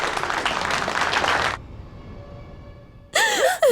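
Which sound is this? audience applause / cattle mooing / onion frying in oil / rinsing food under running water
audience applause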